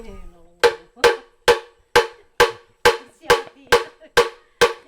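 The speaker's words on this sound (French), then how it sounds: "Ce que vous entendez, c'est le bruit d'un bambou qui a été creusé." Nine or ten hollow knocks on a hollowed-out bamboo signal drum, struck at a steady, even rhythm, each sharp and resonant with a short decay, fairly close with no talking.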